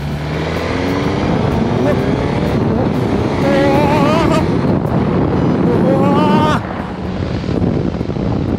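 A Suzuki GSX-S1000GT motorcycle accelerates hard in A mode, its engine note climbing in rising sweeps over loud wind buffeting, then dropping off abruptly as the throttle closes and easing back to a steadier rumble.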